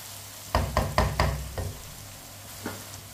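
A few quick scraping stirs of bottle gourd in a sizzling pan, followed by a softer stir, over a low frying hiss.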